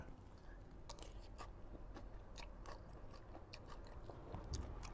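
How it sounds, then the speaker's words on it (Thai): Close, soft chewing and biting of Pad Thai noodles with bean sprouts and garlic chives at home, a steady run of small crunches and moist mouth sounds with no talking. "กลับมาถึงบ้านแล้วนะครับกินผัดไทยป้าอ้อยกันเลย"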